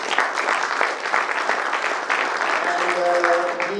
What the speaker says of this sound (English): So a big round of applause to Ganpat University.